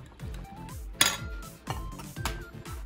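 A spoon clinking against a bowl while breaking up egg whites already whipped with sugar into foam, a steady rhythmic series of light taps and scrapes with one sharper clink, close and quiet, with no talk.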